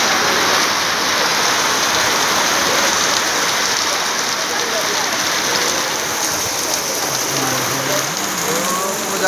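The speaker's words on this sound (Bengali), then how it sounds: "মালদা শহরে বৃষ্টি হচ্ছে।" Steady rain falls in Malda town, a dense, loud hiss of drops on surfaces that runs without a break, with faint voices in the background.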